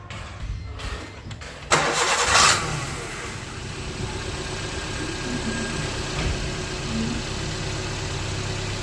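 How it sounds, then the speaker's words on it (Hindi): A Maruti car running on LPG/CNG cranks briefly and catches with a loud burst after its rail injectors are serviced, then settles into a steady, even idle hum. "अब गाड़ी स्टार्ट करके देखता हूँ।"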